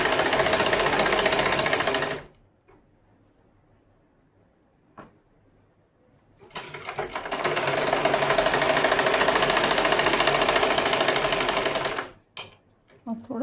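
Sewing machine stitching a pant leg, running in two long steady bursts of dense rapid needle clatter separated by a quiet pause, with a brief restart near the end.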